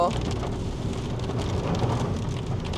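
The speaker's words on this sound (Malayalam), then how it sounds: "നോക്കുമ്പോൾ മഴയാ, മഴ പെയ്തു." Steady, dense heavy rain hisses continuously across the whole stretch, heard from inside a car, a broad wash of falling water with a low rumble underneath and no clear voices.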